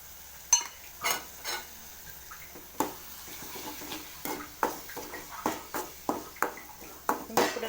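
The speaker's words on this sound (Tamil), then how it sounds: "இஞ்சி பூண்டு நல்லா பச்சை வாசனை போக வரைக்கும் வணங்கட்டும்" Ginger garlic paste frying and being stirred in a pan for a potato gravy, with soft sizzling under a string of distinct scraping stir strokes, moderately near and fairly quiet, no talking.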